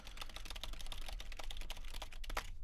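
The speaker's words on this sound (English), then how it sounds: "Let's clicky-clack on the keyboard so you can hear what it's like" Someone types rapidly on a computer keyboard, a close, steady run of crisp clacking keystrokes picked up through a vintage Rode NT2 condenser microphone, with no voices.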